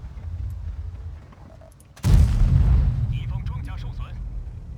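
A tank gun fires in World of Tanks, a single heavy boom with deep rumbling tail; quieter engine and battle sounds before, and a voice talks over parts of it.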